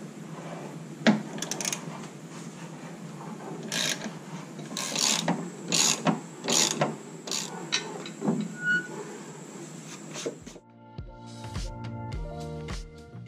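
Hinge bolts on a truck tailgate are worked loose with a hand tool, giving a series of short metallic scraping and ratcheting strokes, close and irregular, before a brief clattering mechanical sequence at the end.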